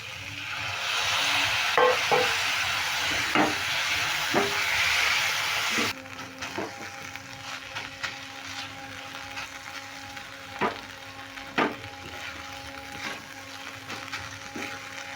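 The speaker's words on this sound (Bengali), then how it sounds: "দেখো নেড়ে চেড়ে একদম ভেজে কষিয়ে নিলাম" Vegetable roll filling with spices being stirred and fried in a pan: a louder sizzle at first that quiets to a low simmer, with repeated spatula taps and scrapes spaced a second or two apart, no voices.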